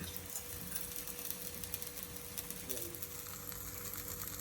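Chola adai batter, a millet pancake, crackles and sizzles in oil on a hot pan, a steady close hiss with faint ticking pops that runs through the whole clip.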